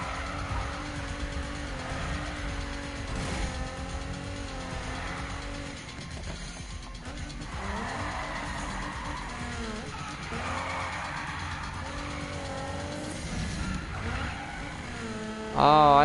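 Mazda RX-7 driven in the Need for Speed video game, its engine a steady revving drone with shifting pitch and mechanical whirring, continuous and fairly loud, ending in a brief louder burst.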